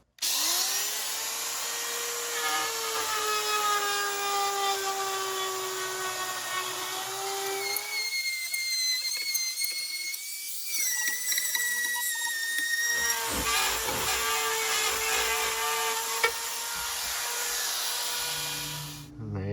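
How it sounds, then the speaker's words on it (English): A Rotozip saw with a guide tip cuts out drywall along the framing. The motor makes a loud, steady high-pitched whine, stops for a few seconds in the middle, then cuts again with a grinding rasp. "I'm just going to take my Rotozip with the guide tip and use this framing right here to guide this saw to cut this drywall out."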